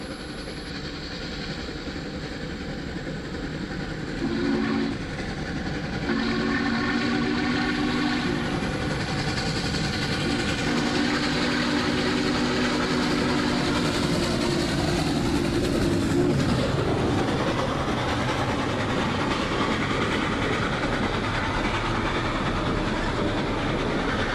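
Steam locomotive 611, a restored Norfolk Southern excursion engine, runs on rails making a one-way move with its train, a long continuous rumble and rolling clatter with sustained whistle tones partway through, growing louder then holding steady.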